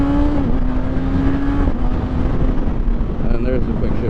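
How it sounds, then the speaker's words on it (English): A 2022 Kawasaki ZX6R motorcycle accelerates hard with a steady, loud engine whine, with quick-shifter gear changes heard as brief pitch drops. A rider talks over the engine and wind noise. "And there's the quick shifter in action."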